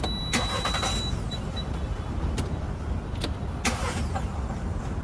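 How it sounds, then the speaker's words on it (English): A car engine cranks repeatedly without catching, the starter whirring in several short bursts separated by pauses over a steady low rumble, with no talking. "Let's turn off the engine first and try to start it again."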